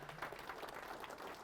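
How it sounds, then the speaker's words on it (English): A small audience at a conversation event gives a round of applause: soft, even clapping from many hands, heard at a distance and at low volume for a moment. "So give him a round of applause."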